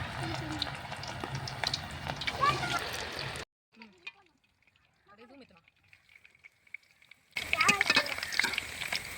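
Cauliflower pakoda frying in hot oil, a close, busy sizzle and crackle that fills the start and end, broken by a quiet middle stretch with only faint bubbling traces; a voice speaks over the frying.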